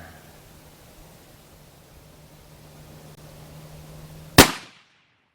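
A single sharp rifle shot from a 7mm Rem or 300 Win fired at a long-range target, loud and abrupt after quiet outdoor background, with a brief fading tail.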